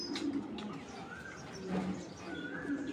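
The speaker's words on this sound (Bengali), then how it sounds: "কবুতরগুলো একবারে খুব সুন্দর মিডিলের কবুতর মাদি এবং বিগ সাইজ।" Racing pigeons cooing nearby in soft, low, rolling calls that repeat a few times over a quiet background with faint chirps.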